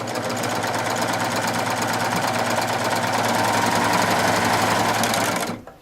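A serger running with an Ovation blindhem foot whirs at a fast, steady stitching rhythm, close and continuous for several seconds before stopping abruptly.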